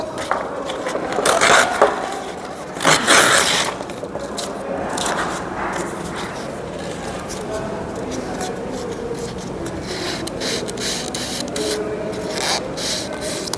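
Very fine emery paper rubs against the ferrule of a snooker cue, soft scratchy strokes with a couple of louder bursts early on, while a person talks.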